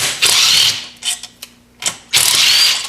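Ratchet removing the four bolts on a DeVilbiss single-cylinder compressor: loud, close bursts of rapid clicking separated by a few short metallic ticks and a brief pause.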